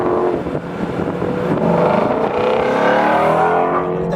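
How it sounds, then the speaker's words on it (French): A Ford Mustang Shelby GT350's engine roars loud and steady from inside the moving car, pitch rising as it accelerates, with no talking over it. "On est actuellement dans la Shelby GT350. Comme vous l'avez remarqué, on l'entend."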